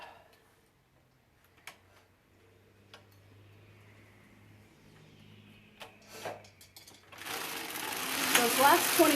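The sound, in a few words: LK150 knitting machine knitting stripes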